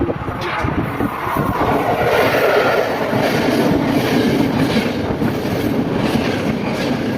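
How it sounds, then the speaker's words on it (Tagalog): A passenger train in Vernazza, Italy rumbles past loud and close, with a continuous clatter of wheels on the rails and a faint squeal. "So this is the real train. Our train going back there."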